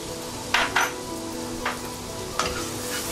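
Chopped ginger fried in a pan, with a constant sizzle and a few sharp scrapes and clinks of a spoon stirring against the metal, close up.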